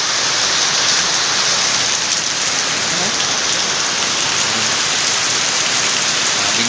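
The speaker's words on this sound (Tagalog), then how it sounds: "Grabing lakas ng ulan." Heavy rain pours down in a dense, steady roar, loud and continuous throughout with no voices.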